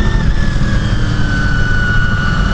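1999 Honda VFR 800 at full throttle on a track day on Vancouver Island, a loud, continuous high-revving engine roar with a rising whine, heard close up with no talking.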